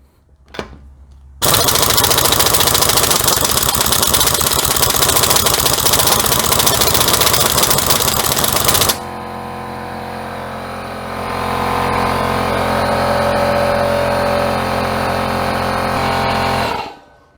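A pneumatic impact wrench hammers loudly and continuously at a stuck, corroded wheel bolt on a BMW Z3, a harsh rattling burst lasting several seconds, then a lower steady whir and hiss as the tool keeps running.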